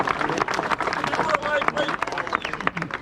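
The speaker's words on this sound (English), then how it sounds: "round of applause" A crowd gives a round of applause at a live event, its dense clapping carrying on steadily for a few seconds without pause.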